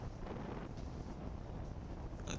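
Wind roars over a small aircraft making a fast descent, a steady close buffeting rush with strong low rumble that lasts throughout.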